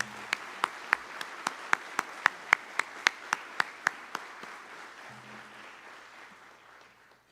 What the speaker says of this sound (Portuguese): Uma salva de palmas para o Ricardo.